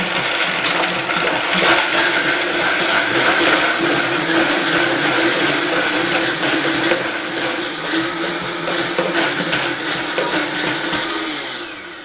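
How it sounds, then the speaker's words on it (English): A Vitamix blender runs steadily on its low setting, a loud continuous motor whir with a gritty churning texture that eases slightly near the end. "just start it on low setting. And if you don't have a Vitamix"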